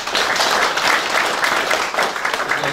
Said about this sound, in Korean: 경상북도 평화대사 대회의 회장 취임식을 여러분의 큰 박수로 시작하겠습니다.